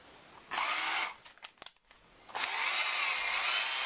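An electric drill fitted with an auger stirs honey in two loud whirring bursts, with clicks and brief handling noises in the quiet gap between them and no talking.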